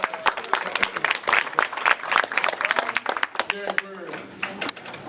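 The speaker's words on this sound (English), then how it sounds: "Clap on that, people." Applause from the audience at a high school fall athletic awards banquet, a burst of scattered, moderately loud clapping with a voice speaking over it.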